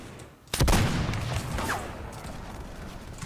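Musket gunfire in Sector Wars, a single loud, close blast followed by a lingering echoing rumble that slowly fades.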